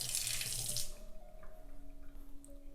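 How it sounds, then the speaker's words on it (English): Water splashes briefly from a tap into a sink as a makeup brush is wetted, a short bright rush lasting under a second, followed by quiet room tone with faint hum. "I take this brush, I wet it with water"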